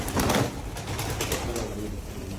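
White pigeons coo softly nearby, low murmuring calls over a noisy outdoor background with a brief louder swell near the start.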